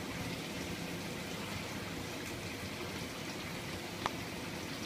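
An Esatto EDW6SL dishwasher on a rinse cycle gives a steady, dense rush of spraying water, constant and fairly close, with a single faint clunk near the end.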